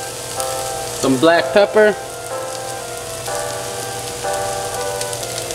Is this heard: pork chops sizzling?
yes